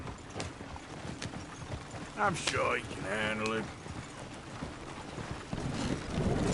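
Horses trotting in the video game Red Dead Redemption 2, a run of clip-clop hoofbeats heard under several voices talking, with game music and ambience around them.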